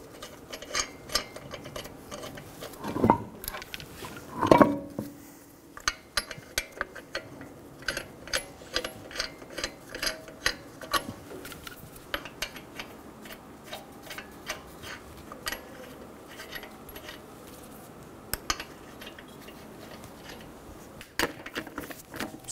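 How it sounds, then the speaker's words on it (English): Wheel going back onto a 2007-2011 Toyota Camry front hub after a brake caliper replacement, lug nuts started by hand: close, irregular metallic clicks, taps and ratchet-like ticks, with a couple of louder knocks early on and no talk. "Install the wheel and get the lug nuts started."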